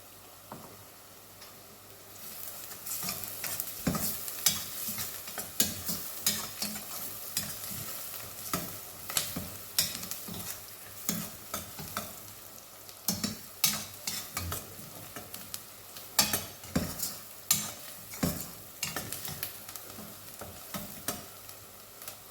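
Garlic and spices fry in hot oil in a pan while a spoon stirs them, a steady sizzle broken by repeated sharp scraping taps that come in irregular bursts, with no talking.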